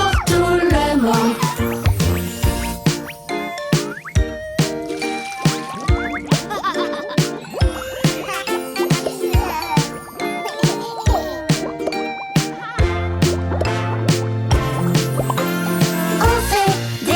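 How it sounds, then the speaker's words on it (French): Bubble pops and plops ring out as repeated bright drips over a bouncy children's song with instruments, recurring in a regular rhythm beneath the music. "On les fait grosses jusqu'à ce qu'elles explosent"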